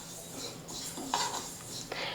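Stirring and roasting in a pan over a medium flame while preparing Uttara Karnataka jaggery karchikai, with soft scraping and light clinks of utensil against metal, faint and close.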